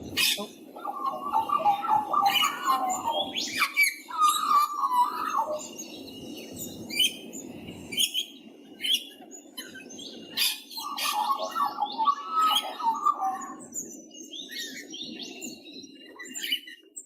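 A person imitates bird calls, giving bursts of chirps and tweets that come and go over about seventeen seconds, moderately loud and close, with faint breathy gaps between the phrases.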